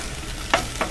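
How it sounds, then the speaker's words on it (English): Meat searing in a hot pan, a soft steady sizzle with two quick sharp spits of fat, no voices. "That's a good sear."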